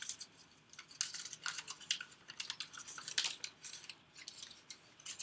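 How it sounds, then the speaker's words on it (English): A violin bridge being unwrapped from its packaging, producing close, crisp rustles and crinkles in quick irregular bursts at low volume. "Unwrap the bridge."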